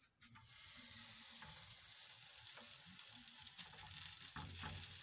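Swahili pizza fries in oil in a pan, giving a soft, continuous sizzle with faint crackles, quiet and close, with no voices.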